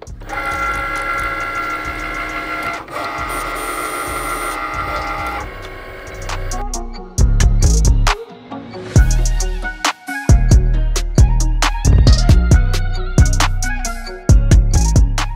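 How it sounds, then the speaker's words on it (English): A Cricut cutting machine cuts a vinyl design for custom hats: a steady mechanical hum gives way to loud, rhythmic whirring and clicking as the carriage moves in bursts, close by with no talk. "Once the Cricut logo starts blinking like this, we could go ahead and click it and it's going to cut our design."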